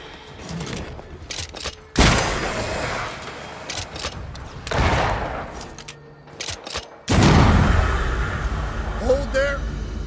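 Gunfire from a corpse taking aim in Banishers: Ghosts of New Eden, heard as several loud, sharp bursts spread over about ten seconds. Game ambience and brief speech fill the gaps between shots.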